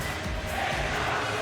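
Estonian fans roar as a steady, dense crowd din during a Eurobasket 2015 basketball game against Belgium, continuous and loud throughout.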